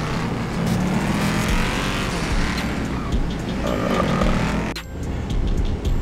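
A BMW M3 engine roars steadily in GTA 5, loud and close, holding a sustained rev with a brief dip near the end before picking up again.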